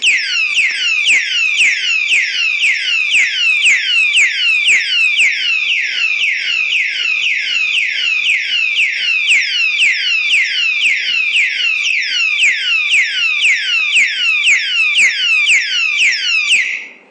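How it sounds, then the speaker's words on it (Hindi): A loud electronic anti-theft alarm siren on a lock beeps rapidly and continuously in sweeping chirps, steady for about sixteen seconds before cutting off. "जो इसकी सायरन की बीप है वो देखना आपको इतनी जबरदस्त है"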